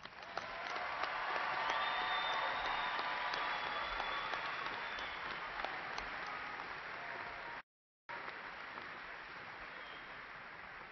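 A large audience applauds graduates at a university spring commencement ceremony, with steady, dense clapping filling a big hall for the full stretch and only a brief dropout near the end.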